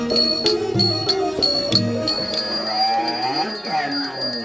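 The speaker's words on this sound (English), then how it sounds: "There's a Vajra bell." A ritual Vajra bell rings in a rapid series of bright struck tones with long shimmering overtones, giving way to a wavering, fading ring.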